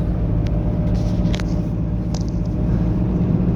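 A car drives at speed along Highway 7, the Lougheed Highway, just after a rock-slide closure reopens. It makes a steady, close cabin rumble with road noise and a few faint clicks, and no one speaks.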